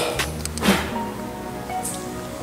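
Water splashed onto a sports jersey to mimic rain makes a brief spattering burst, followed by a soft hiss of dripping and a second light splash near the end, close by with no talking.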